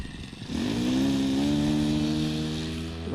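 A SIG Kadet Senior RC model airplane engine goes to full throttle, its buzzing whine rising in pitch and then holding a steady, loud, high drone for several seconds.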